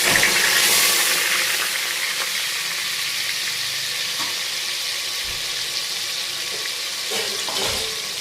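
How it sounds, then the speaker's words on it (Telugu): Onion paste hits hot oil in a pan for a salmon fish curry, giving a steady broadband sizzle that starts loud and settles into a continuous fry, with a few faint stirring clinks and no talk. "ఆయిల్ వేడెక్కిన తర్వాత ఇదిగో ఉల్లిపాయ పేస్ట్ వేస్తున్నాను."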